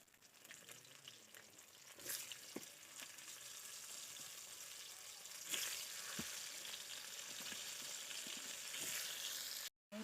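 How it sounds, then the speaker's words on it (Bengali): Squeezed flowers dropped into a wok of hot spiced oil for pickle, frying with a steady close sizzle and scattered crackles and pops throughout, with no voices. "এবার আমি ফুলগুলো ভালো করে চিপে চিপে কড়াইতে দিয়ে দেবো"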